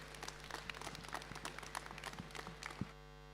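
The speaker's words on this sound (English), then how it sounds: "let's give these guys a big round of applause" Light, scattered clapping from spectators around an alpaca show ring, quiet and somewhat distant, with individual claps popping out before it stops abruptly near the end.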